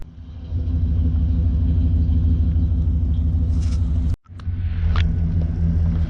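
An Allis Chalmers C tractor engine runs with a steady, loud low rumble and rhythmic chugging throughout, broken by a brief dropout before the idle resumes.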